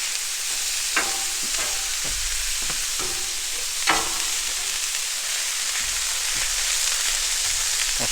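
Keto egg roll in a bowl sizzling steadily on a Blackstone griddle, with repeated scraping stirs of the spatula cutting through the constant close frying hiss.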